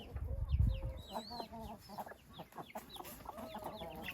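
An aseel hen clucks on a farm in short, low, irregular bursts, fairly close, with other bird calls and a soft low rumble behind.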